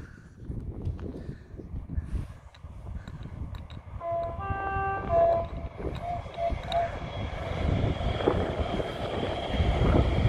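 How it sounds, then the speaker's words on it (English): A passing train near an estuary in Essex sounds a brief horn honk mid-clip, a steady tonal blast over the continuous rumble and rush of the train and outdoor wind. "the train driver would honk if we waved"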